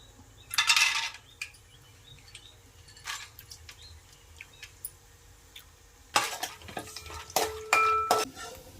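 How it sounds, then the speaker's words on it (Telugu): Chopped almonds and cashews are stirred in hot ghee in a pan, with a few bursts of scraping, clattering utensil noise against the metal, close by, over a faint background hiss. "నెయ్యి కాగిన తర్వాత మనం కట్ చేసి పెట్టుకున్న బాదం పప్పు, జీడి పలుకులు నేతిలో వేపాలి."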